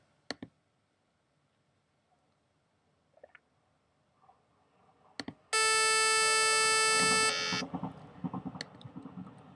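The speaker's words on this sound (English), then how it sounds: "It's a wave of sawtooth, which will sound like this with only one wave." A single sawtooth wave from a wavetable synth sounds as a bright, buzzy, sustained tone for about two seconds, framed by scattered clicks and quiet handling noise.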